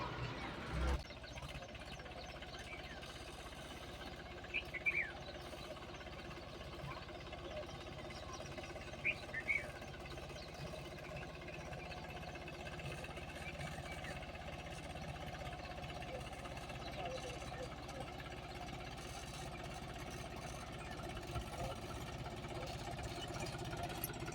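A tractor engine idles steadily at a low rumble throughout, with faint voices in the background.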